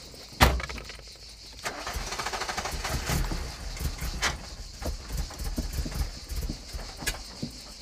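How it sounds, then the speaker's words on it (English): An Alfa Romeo car in a stunt scene, heard as a steady engine drone with sharp bangs and impacts scattered throughout, loud and close with bursts of rattling motion. "I'm driving an Alfa Romeo."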